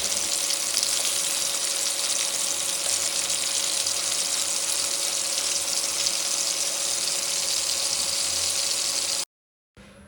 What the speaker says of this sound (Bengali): আমি একটা ফ্রাই প্যান বসিয়ে দিয়েছিলাম, তো আস্তে আস্তে সব মাংসগুলোকে আমি ভাজা ভাজা করে ফেলবো।